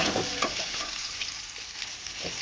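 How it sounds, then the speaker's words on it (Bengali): Potatoes fry together in a pan, a steady close crackling sizzle with a few brief stirring clinks. "এক এক করে না, সব একসাথেই ভেজে নেবো।"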